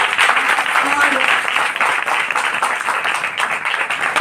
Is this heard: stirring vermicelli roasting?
no